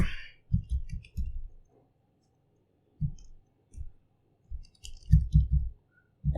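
Someone types on a keyboard while writing Django code. Close, crisp key clicks come in short bursts of two to four, separated by brief silent pauses.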